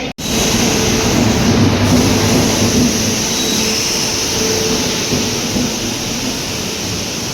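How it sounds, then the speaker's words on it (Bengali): Train 22503 Vivek Express, the Kanyakumari to Dibrugarh service, pulls into a station, a loud close continuous rumble and roar of the passing coaches with steady wheel noise throughout. "আমাদের গাড়ি এটা এইমাত্র আমাদের সামনে ঢুকছে 22503, ইন্ডিয়ার সবচেয়ে লংগেস্ট রুটের ট্রেন বিবেক এক্সপ্রেস"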